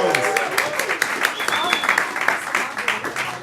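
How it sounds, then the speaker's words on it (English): Audience applause at a live talk, dense steady clapping that fills the room, with voices and a few whoops mixed in underneath. "let's clap for them"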